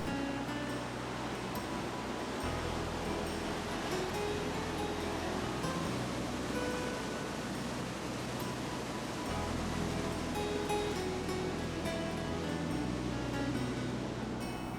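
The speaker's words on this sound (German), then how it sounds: "hören wir das Rauschen" Rushing water of Yellowstone's Upper Falls heard from the trail below a parking area, a faint, steady broadband roar that holds evenly throughout with a low rumble underneath.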